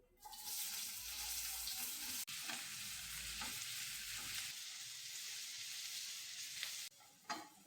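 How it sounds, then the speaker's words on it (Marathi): Four or five chopped onions frying in oil in a large pan for a big batch cooking session, producing a loud, continuous close sizzle with occasional stirring scrapes. "आपला कांदा पण फ्राय झालेला आहे छान"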